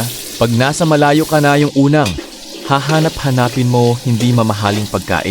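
Garlic sautés in a pot while a ladle stirs, a steady sizzle running underneath a person speaking continuously in the foreground.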